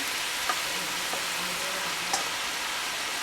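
Cooked noodles hit a hot wok with bean sprouts for chicken chow mein, giving a loud, steady stir-fry sizzle with a few faint clinks and scrapes.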